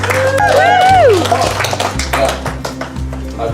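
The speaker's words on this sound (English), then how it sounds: "give yourselves a round of applause," Guests at a wedding reception clapping in a quick round of applause, scattered sharp claps running beneath loud talking and a tonal musical sound.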